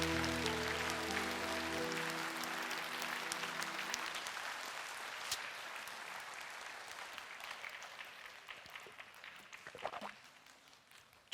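A church congregation at a 2009 healing service applauds, a full crowd clapping that starts over a sustained musical chord, then gradually thins and fades to scattered claps.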